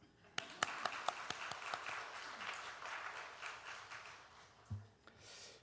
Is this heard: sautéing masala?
no